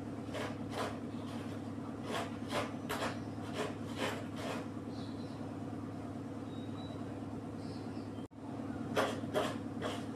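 Coconut grated by hand, a run of rhythmic rasping scrapes at a steady pace, a pause, then a few more strokes over a constant low hum.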